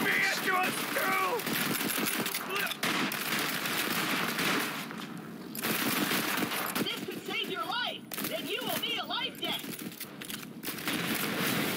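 Rapid twin gunfire in the Borderlands 3 video game, loud bursts and repeated shots mixed with game music and effects while character voices talk over much of it.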